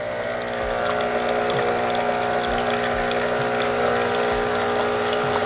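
A Breville Barista Express espresso machine runs its water dispenser during descaling with Durgol descaler, giving a steady, loud pump hum with a constant tone and faint low knocks recurring throughout, no voices.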